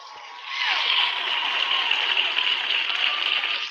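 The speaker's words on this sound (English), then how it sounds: "could you throw the hand claps for me?" A hand claps sound effect played on cue, a bright dense burst of applause that kicks in after a brief lead-in and holds steady and close until cutting off at the end.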